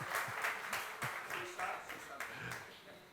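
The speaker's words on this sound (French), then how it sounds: "Je peux m'applaudir." One man at a church service claps for himself, a handful of sharp, separate hand claps in an uneven rhythm, close and fairly quiet, while he keeps talking between them.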